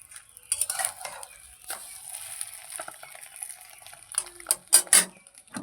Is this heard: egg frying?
yes